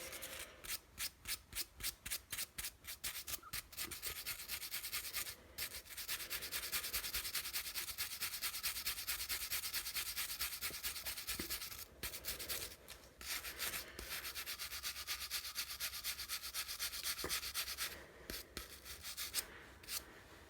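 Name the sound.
wire brush scrubbing weed whacker engine rings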